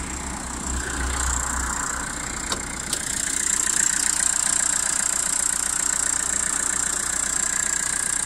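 Renault Kangoo 2015 diesel engine idling quietly and smoothly, a steady soft mechanical hum with faint clatter, continuous and unchanging for several seconds with no talk.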